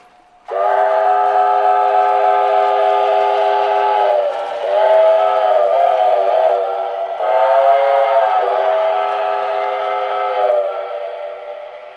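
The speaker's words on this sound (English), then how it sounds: "Man, that whistle is to die for." A Lionel Milwaukee Road Pacific model steam locomotive sounds its whistle in a few long, loud, chord-like blasts with short breaks between them, close and clear with no talking.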